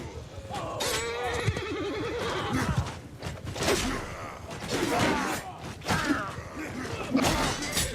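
A horse neighs and whinnies repeatedly amid combat noise in a Warhammer mod of a video game, with hooves clattering and thuds, the calls loud and close.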